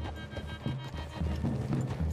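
Horses in Red Dead Redemption 2 move through a forest clearing, their hooves clip-clopping in an uneven rhythm at moderate distance, with a soft whinny and low ambient rumble beneath.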